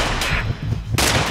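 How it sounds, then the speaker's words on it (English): Gunfire erupts in an action-movie scene, loud, dense bursts of shots filling the whole short stretch, with a sharp cluster at the start and another near the end. "Stop shooting!"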